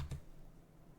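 A single computer keyboard key is pressed during Blender 3D modelling, a soft close click early on with quiet room tone afterward and no talk.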